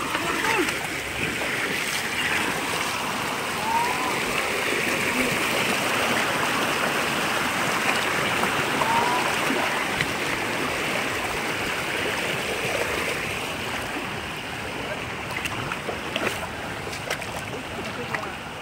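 Water at Sankarghola waterfall near Bongaigaon rushes and splashes in a loud, dense roar that continues throughout. Voices can be heard faintly under the torrent.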